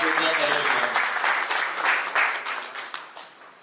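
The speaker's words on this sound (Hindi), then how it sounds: "आज इस सफल कार्यक्रम को आयोजन करने के लिए मैं मंडल आप लोग के लिए इस बार जोरदार तालियां" An audience at an HRAI awareness program in Moradabad gives a burst of dense, steady clapping that slowly thins and fades toward the end.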